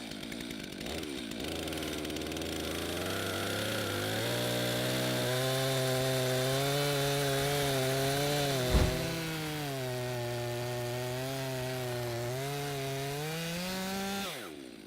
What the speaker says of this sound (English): we're about to fire up the 18-inch chainsaw and get it underway